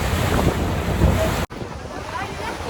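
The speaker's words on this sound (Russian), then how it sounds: "Одни барашки волн." Rushing ocean waves with whitecaps and heavy wind buffeting the microphone from a boat off Los Gigantes, Tenerife, a constant roar with a brief dropout partway through.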